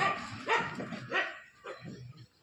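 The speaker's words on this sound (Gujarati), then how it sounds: "પેલી બાજુ કૂતરાને કૂતરા બોરા છે" Dogs barking nearby in the evening, a few sharp barks and yips in quick bursts, moderately close with short pauses between.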